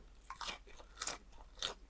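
Quiet, close crunching bites and chewing of crunchy mushrooms, a few crisp bursts spaced out over a couple of seconds.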